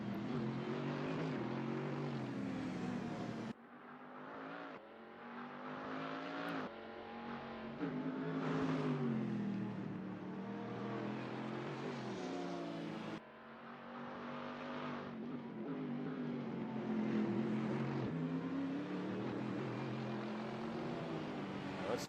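A Bentley Super GT race car engine at Fuji Speedway in a sim racing game revs hard through repeated upshifts and downshifts over about twenty seconds. It is loud and onboard, with abrupt gear-change drops and no talking.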